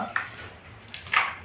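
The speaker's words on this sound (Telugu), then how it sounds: "మా కుక్క బయటికి వెళ్ళి" A dog gives two short yipping whimpers close by, brief and high-pitched over a quiet background.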